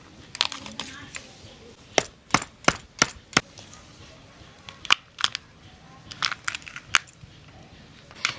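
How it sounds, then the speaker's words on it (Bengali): A boti blade chopping crab into small pieces, a series of sharp crunching cracks at irregular intervals, some in quick pairs, close and clear against a quiet background. "এবারে বটি দিয়ে ছোট ছোট করে পিস করে কেটে নেব"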